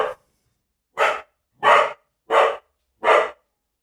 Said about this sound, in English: That's my dog. He is not a fan of wah pedals.